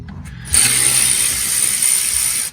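Socket ratchet clicking as it removes the rear differential cover bolts on a Foxbody Mustang Ford 8.8 rear axle, a loud, close, rapid continuous ratcheting burst lasting about two seconds, with no speech.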